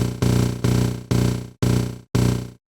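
A slowed drum loop played through Kontakt with transient copy switched on, five punchy hits with sharp attacks and long decaying tails, each cut off before the next, loud and alone.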